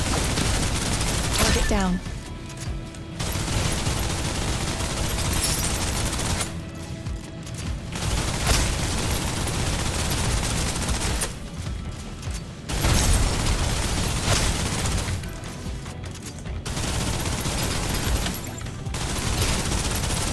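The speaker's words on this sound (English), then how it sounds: "Suppressive fire." Suppressive gunfire in the shooter game Snowbreak: sustained, loud bursts of automatic fire with explosive pops running nearly the whole time, broken by brief pauses, with a short spoken word over it.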